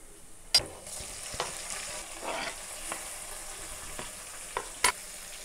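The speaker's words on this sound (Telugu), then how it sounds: "ఇప్పుడు ఇందులోనే టమాటోస్ అయితే వేసేసుకుంటున్నాను" Tomatoes tossed into a pan of light-brown fried onions for an Andhra fish curry, giving a soft steady sizzle broken by a few sharp clunks and scrapes of a spoon against the pan, with no talking.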